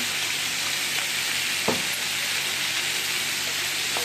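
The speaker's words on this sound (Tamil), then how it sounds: "நாட்டு தக்காளி ஒரு தக்காளி சேர்த்து எல்லாமே நல்லா சேர்த்து வதக்கி எடுத்துக்கலாம்" Tomatoes and masala sauté in oil in a pan for a chicken seekh kebab gravy, producing a constant broad sizzle with one brief knock of a spoon partway through.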